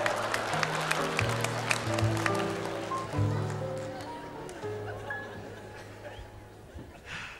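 Studio audience applause on a French children's talent TV show, a broad steady patter of clapping lasting several seconds, with strong musical or vocal tones running underneath and fading toward the end.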